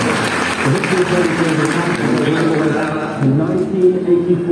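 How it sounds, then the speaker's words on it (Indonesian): Congregation applause at a church service, a steady dense wash of clapping filling the whole stretch with crowd noise and voices mixed in. "Tepuk tangan sekali lagi Evander Holyfield"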